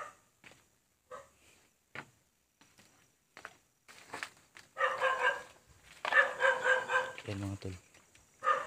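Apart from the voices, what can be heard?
dog barking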